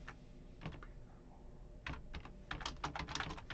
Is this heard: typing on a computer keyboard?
yes